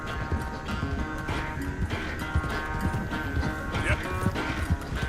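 Horse hooves clip-clopping in Red Dead Redemption 2, a steady quick run of hoof falls at moderate level with other game sounds mixed in.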